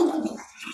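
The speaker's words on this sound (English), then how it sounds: "My little dog." A small dog barks and whimpers close by, a short burst of a yelp or two that fades quickly.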